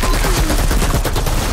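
Rapid hip-fired gunshots from the Outriders looter-shooter game, a dense, loud continuous burst of automatic fire with no voices over it.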